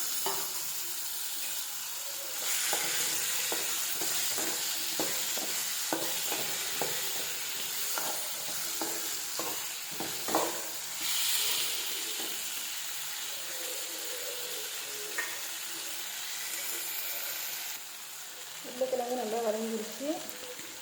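Potato and tomatoes sautéing in a pan for an egg gravy, with a steady sizzle and repeated scraping stir strokes of a utensil, close and continuous, with a brief voice near the end.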